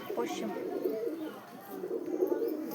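A pigeon coos nearby in soft, rolling, throaty bursts, with faint voices in the background.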